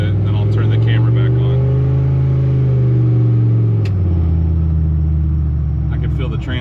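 A turbocharged Chevrolet Silverado with a slipping transmission drives along with a loud, steady engine drone whose pitch rises, drops sharply, then climbs again, while a person speaks over it.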